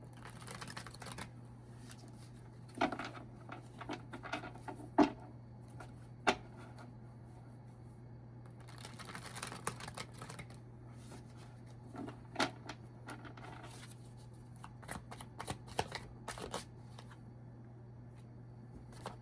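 Tarot cards being shuffled and drawn, soft close taps, riffles and slides in scattered bursts over a steady low hum, quiet and without talk.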